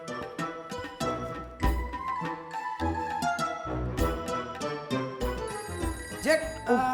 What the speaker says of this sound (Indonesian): telepon bunyi didiemin aja sih